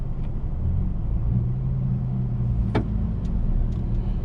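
Road traffic in Macau, a steady low rumble of passing cars with a brief brighter swish midway, moderately near and continuous, no voices.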